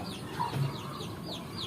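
Free-range village chickens cluck in short, repeated bursts at moderate distance, with soft clucks scattered over a steady background of farmyard noise.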